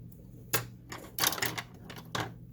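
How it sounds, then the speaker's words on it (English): A tissue blade cuts through polymer clay set with broken stones, giving a few sharp, close clicks and taps with quiet gaps between them and no voices. "I'm going to come in and just slice away some of the irregular side"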